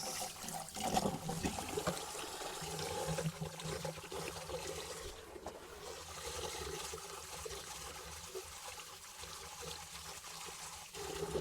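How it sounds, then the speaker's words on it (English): Water sloshes and trickles continuously at close range, quiet splashing and pouring as breadnuts are swished and rinsed, with no voices. "So the first thing we're going to do is rinse out the bread nut."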